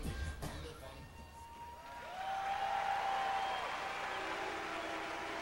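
A sellout crowd at a bodybuilding contest in Veterans Memorial Auditorium, Columbus, Ohio, applauding and cheering bodybuilder Marcus Rule; a broad, sustained wash of clapping and cheers that swells after a brief quieter start.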